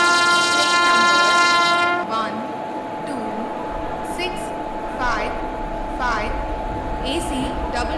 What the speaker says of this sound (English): Vande Bharat Express is arriving at platform number 3.